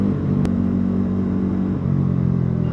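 A Bajaj NS400Z motorcycle drops a gear, its steady engine drone dipping briefly and then settling into a lower tone, heard up close with a single sharp click near the start.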